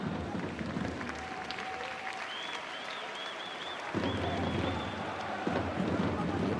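Stadium crowd at a J1 League football match between Avispa Fukuoka and Hokkaido Consadole Sapporo, a broad distant murmur with scattered applause and whistles, a commentator talking over it.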